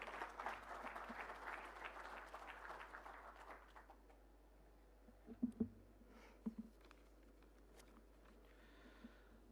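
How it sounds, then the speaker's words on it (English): Audience applause at a hospitality and tourism conference, quiet clapping that fades out over about four seconds, followed by a few faint thumps and rustles in a hushed room. "Round of applause for Narendra, please."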